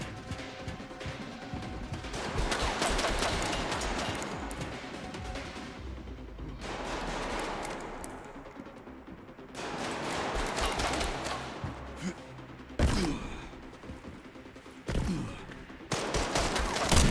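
Repeated bursts of gunfire in Resident Evil Requiem on Classic mode difficulty, dense loud volleys with brief lulls and sharp impacts, continuing at close range throughout.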